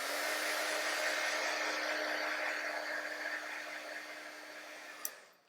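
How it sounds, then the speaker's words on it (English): A heat tool dries paint on a mixed media craft project, blowing a steady close whooshing roar with a faint whine for several seconds before cutting off with a click. "I'm going to dry that a little bit"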